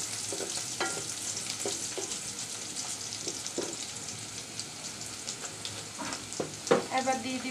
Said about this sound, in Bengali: আমি আরেকটু শুটকিটা আর পেঁয়াজ ভেজে নিচ্ছি।